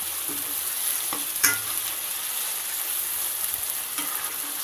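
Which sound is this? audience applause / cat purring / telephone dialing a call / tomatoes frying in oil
tomatoes frying in oil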